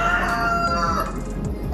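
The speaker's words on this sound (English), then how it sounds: "There's the chicken, the rooster." A rooster crows once, loud and close, its drawn-out harmonic call rising and then falling over a steady low background hum.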